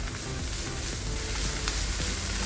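Chopped capsicum sautéing in oil over a high flame, a loud, dense, continuous sizzle with steady crackle and no talking.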